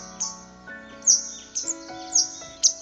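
A grey wagtail fledgling chirps in short, high bursts spaced about half a second apart, fairly close, over a steady musical background.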